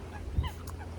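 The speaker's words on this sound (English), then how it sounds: "We're on the river, so you might hear birds every now and then" Birds on a river give a few faint honking calls, goose-like, against a quiet low background, with one louder honk near the middle of the short stretch.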